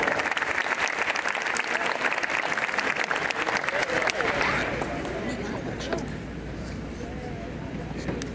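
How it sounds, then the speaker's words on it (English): A crowd at a high school college signing ceremony gives a round of applause. The dense, steady clapping lasts about four seconds, then fades into quieter murmuring and voices. "One more round of applause."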